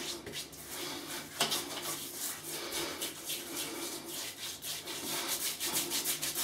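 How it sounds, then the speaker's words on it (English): Shaving soap cream is rubbed into beard whiskers, a close, continuous scratchy bristle rubbing with uneven strokes, fairly soft and without talk. "I'll just rub that into the whiskers"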